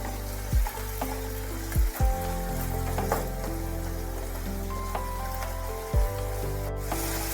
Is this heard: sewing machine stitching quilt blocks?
no